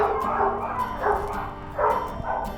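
Dogs bark repeatedly in an animal shelter, a reverberant chorus of overlapping barks and yips at moderate distance, rising and falling over a continuous din.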